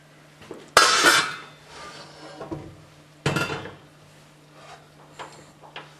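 A lid set onto a pan of lemon and pea risotto just taken off the heat: two sharp metallic clatters a few seconds apart, close and loud, with quieter handling knocks between them.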